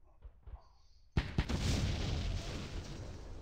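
Mortar fire in the wargame Campaign Series: Rising Sun begins with faint thuds, then two close, sharp detonations in quick succession give way to a loud, lingering rumbling wash.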